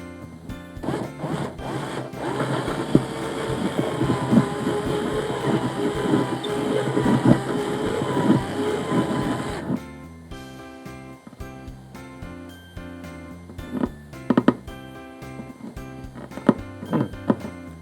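Electric drill boring out a bridge pin hole on an acoustic guitar with a 5 mm bit, a dense grinding whir for about ten seconds, then stopping, followed by scattered light clicks and handling taps.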